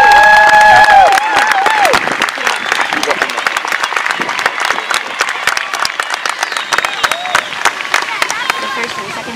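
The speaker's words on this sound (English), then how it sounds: "let's just go ahead and give a round of applause for our new Grove City Varsity Cheerleaders." A crowd at a high school marching band season-opening event gives a long, loud round of applause and cheering for the new varsity cheerleaders, with sharp near claps, babble and a brief tone at the start.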